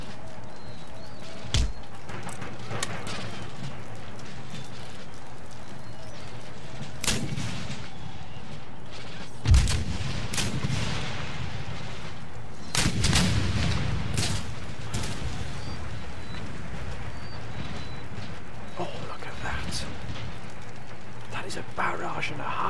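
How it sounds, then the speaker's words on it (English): Artillery barrage in Empire: Total War, a battle against German forces, with repeated loud booming cannon blasts and crackling volleys scattered over a continuous rumbling battlefield din, heaviest in the middle stretch, with a voice talking over it. "Barrage and a half there, so we've just absolutely blitzed the Germans there."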